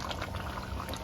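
Jamaican-style stew chicken with carrots and butter beans simmers in a pot, giving a soft, steady bubbling up close with no talk over it.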